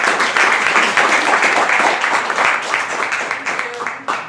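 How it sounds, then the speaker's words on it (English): Applause at a live business money-talk show for entrepreneurs: a room full of people clapping steadily at close range for about four seconds, dense and even, with a few voices mixed in. "Let's get a right. round of applause."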